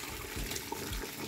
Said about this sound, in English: I'm just going to keep adding my water bit by bit.